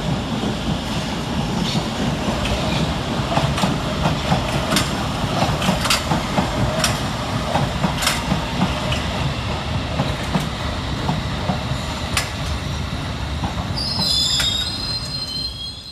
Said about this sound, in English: 21021 and 21022 departing with a Metropolitan Line service from Aldgate to Uxbridge, as 21438 and 21436 arrive with a Circle Line service from Hammersmith to Edgware